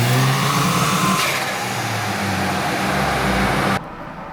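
A Ford Escort with a swapped-in Volkswagen engine revs on a dyno, holding a loud, steady engine drone with shifting pitch before the sound cuts off abruptly near the end.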